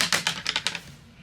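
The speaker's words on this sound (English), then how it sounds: "I'm using the stamping positioner in case I have to stamp it more than once" A rubber stamp held in a stamping positioner is pressed onto a paper card several times, giving a quick run of five or six sharp, close tapping clacks that fade into quiet.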